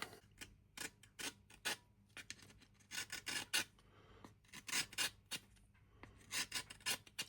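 A Parkside hand deburring tool scrapes burrs and small shavings from the edges of a cut or drilled hole in wood. The rasping strokes come close and distinct, in quick bursts with short pauses between them, and no one talks.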